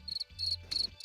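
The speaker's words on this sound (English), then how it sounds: "I think that's a great time for the cricket sound effect." Cricket sound effect: a few quick bursts of shrill, rhythmic chirping, close and clear, over a low background hum.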